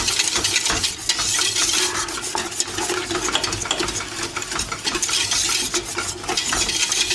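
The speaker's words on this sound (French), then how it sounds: "Voilà, on mélange bien." Waffle batter being stirred with a whisk or spoon in a bowl, a continuous brisk scraping and sloshing that stays loud throughout, with no voices.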